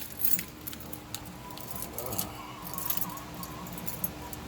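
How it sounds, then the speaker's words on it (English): A bunch of Honda car keys jangles with light metallic clinks and rattles near a first-generation CR-V, in short bursts over faint background noise. "I got too many Honda keys here."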